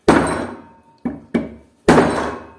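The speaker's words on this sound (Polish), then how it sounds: "No najlepiej tu tutaj młoteczkiem pomasować." A small hammer strikes a metal solenoid to break it apart: four sharp, loud knocks with ringing decay, irregularly spaced, the last blow heaviest, no talking.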